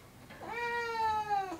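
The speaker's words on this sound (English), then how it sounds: "So I'm gonna go feed the cat" A hungry house cat gives a single clear, drawn-out meow close by, rising and holding steady before trailing off, with no other sound around it.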